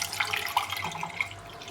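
Water trickling and splashing from a full glass being poured, a light steady stream with faint drips over a low background hum.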